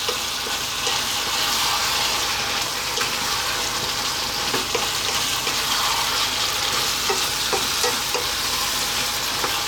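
Spinach and potato curry (aloo palak) being stirred and mixed in a pan, a steady wet sizzle with soft scraping and clinks of the spoon throughout, close and continuous with no talking.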